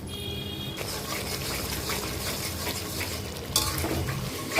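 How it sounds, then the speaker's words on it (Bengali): Rohu fish curry with yogurt and turmeric stir-fried in hot oil, a steady dense sizzle and hiss with scraping of the spatula and occasional louder crackles, close and continuous with no talk. "এখন এটা ভালোভাবে কষাবো, একদম তেলের উপরে আনবো"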